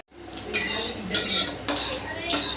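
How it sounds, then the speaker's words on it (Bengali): Boiled potatoes being mashed with a metal utensil in a bowl, giving four rhythmic scraping, clattering strokes, close and fairly loud with no talk. "আলু সিদ্ধ করে নিয়েছি এটাকে একটু ম্যাশ করে নেব"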